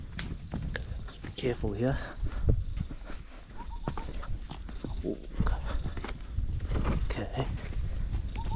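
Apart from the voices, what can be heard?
horse hooves walking on trail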